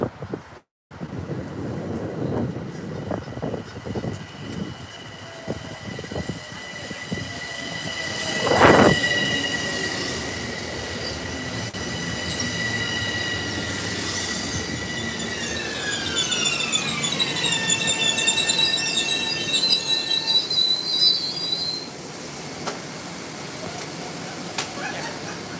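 A Bombardier M7A commuter train rolls through Fordham station with a loud, rumbling passage. A sharp burst of wheel screech comes midway, followed by long, high, sliding squeals as the train slows.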